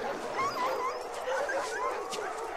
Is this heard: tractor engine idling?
no